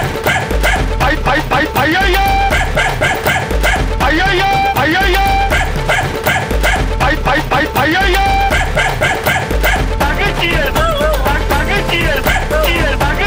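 Dogs bark repeatedly in busy, rhythmic bursts mixed with music, and a voice cries out over the top.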